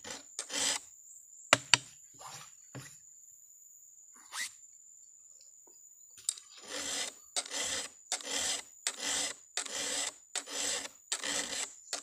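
A hand file rasps across a chainsaw chain while sharpening, a few scattered strokes at first, then a brisk run of regular, close, rough scraping strokes.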